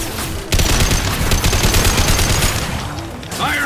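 Sustained gunfire in a Mass Effect 2 firefight, a loud continuous rattle of shots that stops abruptly near the end.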